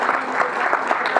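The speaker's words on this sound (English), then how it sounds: "Let's have a big round of applause for the AV crew" Audience at a 2014 fan convention panel applauds the AV crew, a dense, steady wash of many hands clapping close by for a brief moment.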